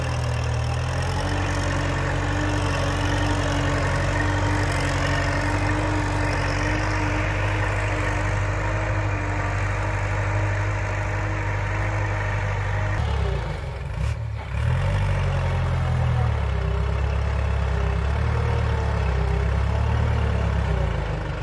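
Kubota tractor engine idling steadily at low revs during evening work digging a two-rai field, a continuous loud low rumble throughout with a brief dip in the middle.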